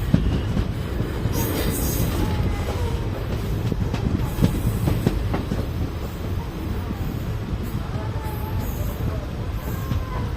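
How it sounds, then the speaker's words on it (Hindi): Link Express train on the railway, a continuous loud rumble of rolling wheels with clattering and brief squeals, close by and steady. "तो फाइनली आ चुकी है लिंक एक्सप्रेस, पर अभी इसको मेन लाइन पर रेड सिग्नल मिला हुआ है।"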